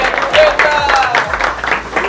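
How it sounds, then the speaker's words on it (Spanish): Applause at a live show in a restaurant, where the crowd claps to welcome the director and owner. Dense, steady clapping stays fairly loud through the short stretch, with voices mixed in. "nos den un muy fuerte aplauso para recibir en este momento a la directora"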